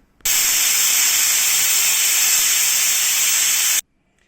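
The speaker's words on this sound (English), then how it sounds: "So I've sealed the pressure cooker and let it cook for some time" Steady, loud hiss of steam escaping a sealed pressure cooker as oxtail cooks, a continuous bright jet that starts abruptly, holds even for about three and a half seconds, then cuts off sharply into silence.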